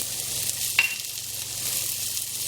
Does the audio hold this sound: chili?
yes